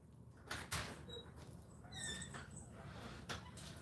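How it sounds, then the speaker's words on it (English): A door opening in a home, with faint brief knocks and clicks against a quiet room background, some squeaky high tones in the middle, and no talk. "I'm gonna have to get the door."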